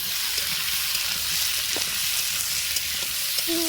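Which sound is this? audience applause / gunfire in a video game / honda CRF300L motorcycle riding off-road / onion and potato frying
onion and potato frying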